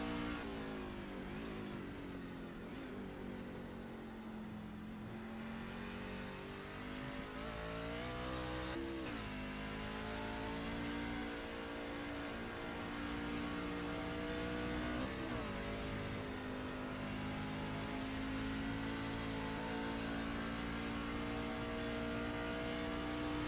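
Race truck engine in a pavement Swift Motorsports truck series race, revving loudly and steadily with pitch swings as it lifts, downshifts and accelerates through a lap, continuous and close throughout.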